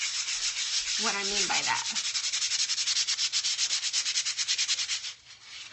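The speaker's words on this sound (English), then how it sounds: "So I'm going to take this little sandpaper and show you kind of" Small sheet of sandpaper rubbing over vinyl to distress it, a steady fast back-and-forth scratching with even strokes, close and loud, briefly under a short spoken phrase near the start.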